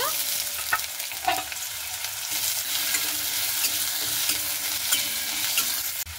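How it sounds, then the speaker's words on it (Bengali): Potatoes fry steadily in a pan with a continuous bright sizzle, broken by a few soft stirring knocks and scrapes, close and fairly loud with no voices. "সবার প্রথমে আলুগুলোকে ভেজে নেব।"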